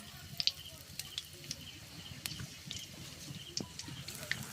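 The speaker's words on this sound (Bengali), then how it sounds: "বাকিগুলোও আমি ভেজে নিচ্ছি।" Cauliflower chops fry in hot oil with a faint, steady sizzle broken by scattered small pops and crackles, quiet and without talk.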